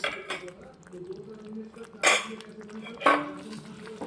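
A Kathiyawadi-style sev tomato curry is stirred in a pan, with soft scraping and two sharper clinks of a spoon against the metal about a second apart, close and moderately quiet.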